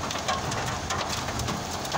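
Hail pelting down during a storm in Milan, a dense, steady hiss of impacts with sharper ticks scattered throughout, loud and close with no talk.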